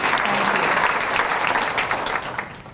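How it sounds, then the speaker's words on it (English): Loud, steady audience applause filling a hall at a school district employee of the year celebration, dense clapping throughout with no talk. "Please give yourselves a round of applause because it takes every single one of us"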